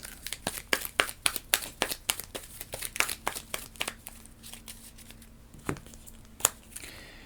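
Game cards for Endless Winter being shuffled on a table: a rapid run of crisp papery riffles and snaps, fairly close and quiet, thinning out toward the end.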